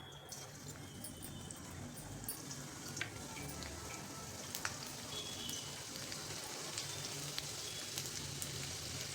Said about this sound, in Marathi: तेल तापलेलं आहे त्यामध्ये घालायचं बारीक कापलेला लसूण